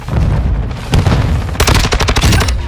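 Frag grenade blast amid rapid automatic gunfire in a Call of Duty Modern Warfare 2 multiplayer match, loud close bursts with a dense rattling volley in the second half.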